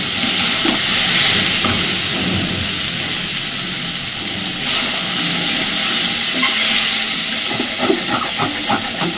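Drumstick (moringa) flowers fry over a low gas flame in a kadai and are stirred, giving a steady, fairly loud hiss and sizzle with soft scraping throughout.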